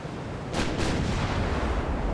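Distant, muffled booms of 13-inch naval guns firing at an Austrian fleet in Ultimate Admiral: Dreadnoughts, two broad thuds close together over a steady low rumble of sea and engine ambience.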